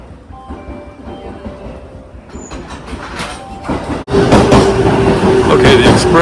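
A Japanese JR train rolls steadily along the rails with rumbling wheels and rhythmic clatter, growing louder and closer near the end, with faint voices in the background.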